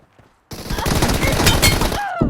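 Dense burst of rapid automatic gunfire in the battle royale game PUBG, loud and continuous for about a second and a half after a brief quiet start, ending with a short ringing tail.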